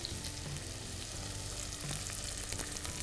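Thinly sliced onions and curry leaves frying in oil, a continuous soft crackling sizzle heard close and fairly quiet, with faint clinks of stirring mixed in.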